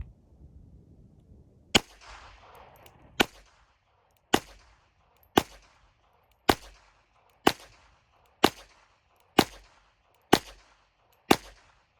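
Winchester rifle emptying a full magazine at a range: ten sharp, loud shots at a steady, unhurried pace, each with a short ringing tail, no voices.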